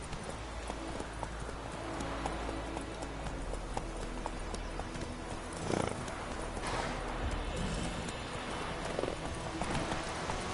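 Roach, Geralt's horse in The Witcher video game, gallops with rapid rhythmic clip-clopping hooves, close and steady, with an occasional snort or whinny over a mixed game soundscape.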